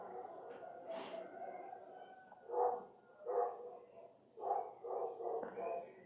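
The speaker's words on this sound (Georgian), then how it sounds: "გაღმაუბანში ერთი დიდი ძაღლი იყეფება მარტო" A big dog barks alone across the village, distant and faint, giving a handful of separate muffled barks spaced irregularly over a quiet background.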